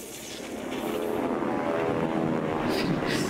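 An airplane in the Captain America: Super Soldier video game drones in a steady, fairly loud roar that swells slightly, with a whooshing rise near the end and no talking.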